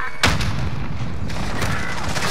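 Gunfire from the Modern Warfare video game during a Search and Destroy match, a booming shot burst followed by continuous loud game noise and explosive rumble over about two seconds.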